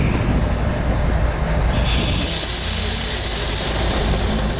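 A steady, loud rumble and hiss of a passing freight train, continuous throughout with a high squeal fading out partway.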